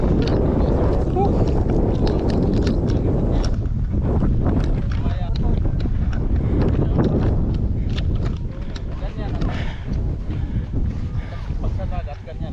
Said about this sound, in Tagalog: Ang sarap ng hangin dito mga lods